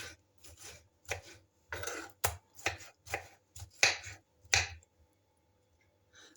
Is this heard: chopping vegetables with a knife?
yes